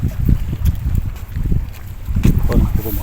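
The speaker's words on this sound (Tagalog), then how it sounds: "Lalo lumakas ang hangin." Strong wind buffets the microphone in gusty low rumbles on a small fishing boat near Al Reem Island, Abu Dhabi, with water sloshing faintly beneath and a voice speaking briefly.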